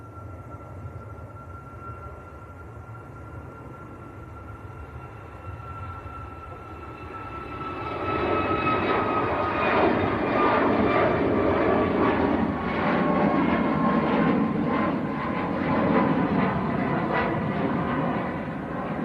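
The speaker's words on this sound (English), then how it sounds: "Ryanair to Lanzarote, just starting to roll. Here it comes, another Max." A Ryanair Boeing 737 Max begins its takeoff roll at Manchester Airport, a steady distant engine tone swelling partway through into a loud, sustained jet roar with a rising whine.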